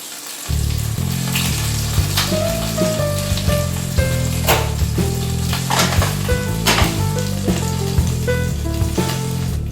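Burger buns sizzle in a hot pan with a continuous close frying crackle and occasional sharper pops, without any talk.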